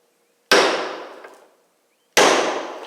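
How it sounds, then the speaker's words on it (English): Two sharp metallic strikes of a hammer on a chisel set against a rusted screw head on a 1968 Mustang, each ringing out and decaying over about a second, loud and close with silence between them. "just take a little chisel on the side of this screw head. I'm gonna give this a smack, just like that."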